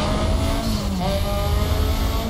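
A car's engine roars in the racing game Need for Speed Most Wanted, a close, continuous revving drone with wavering pitch and a brief rising sweep, loud throughout and without speech.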